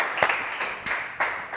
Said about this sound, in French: Applaudissements pour Frédéric, s'il vous plaît.